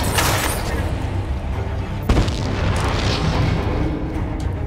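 Gun firing in Crysis 2, a loud, dense stream of close gunfire with booming impacts and a sharp blast partway through, continuing unbroken throughout.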